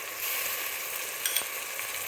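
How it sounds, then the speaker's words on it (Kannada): Butter melting and sizzling in a pan for pav bhaji, giving a steady, soft crackling hiss up close with a couple of brief clicks, no voices. "ಸ್ವಲ್ಪ ಬೆಣ್ಣೆ ಹಾಕ್ತಾ ಇದ್ದೀನಿ"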